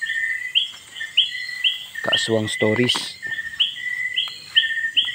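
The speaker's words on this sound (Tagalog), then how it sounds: "Yung huni ng ibon." Birds chirp repeatedly in a steady rhythm over quiet insect hum at night at a dark campsite, broken once by a brief burst of talking.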